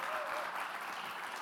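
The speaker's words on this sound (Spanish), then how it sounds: "Así que un aplauso para él." Audience at a corporate innovation panel event applauding, a brief, faint, steady patter of clapping heard from a distance.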